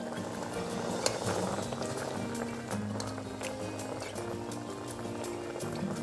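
A pot of mutton curry simmers over a wood-fired village stove, giving a quiet, continuous bubbling with faint crackles and occasional soft knocks, with no talking.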